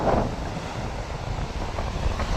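Sea waves surging against the shore at Pingleshwar Mahadev, a loud rolling wash of surf mixed with heavy wind buffeting the microphone, with no talk.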